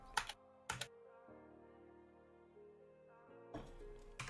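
Quick bursts of computer keyboard typing at a gaming streamer's desk, two short clusters at the start and another at the end, with a steady tonal hum from the setup in between.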